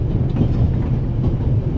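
Train running in the video game The Raven: Legacy of a Master Thief, aboard the Orient Express; a loud, steady low rumble of rolling carriages with faint rhythmic clatter, continuous and close.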